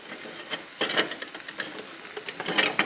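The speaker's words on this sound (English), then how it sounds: "Mix this up" A spoon stirs a salmon stuffing of Kalamata olives, pepper and salt in a bowl: a close run of soft scraping and wet, gritty swishes in uneven strokes, with no speech.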